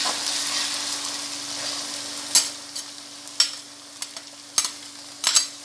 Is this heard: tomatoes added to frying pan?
yes